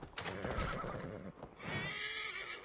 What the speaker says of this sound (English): that horse came running in